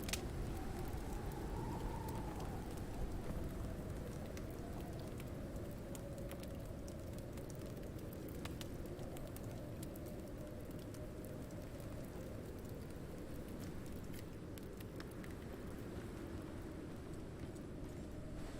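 Steady rainstorm in the survival game Icarus, a dense, even hiss of rain that holds constant throughout with a low rumbling wash underneath and no voices.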